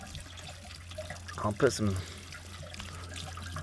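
Water trickles and pours steadily from the open anode port of a Suburban RV water heater, a soft continuous wash running beneath a brief burst of nearby male speech.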